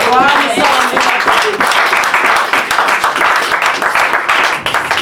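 A church congregation applauds and cheers with loud, dense clapping and overlapping shouts that continue throughout, close and lively, with voices mixed in.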